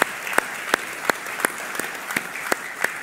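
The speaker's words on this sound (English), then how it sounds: "yeah, you can clap." An Easter Sunday church congregation claps in steady unison, with crisp evenly spaced beats roughly three per second over a low, quiet room background.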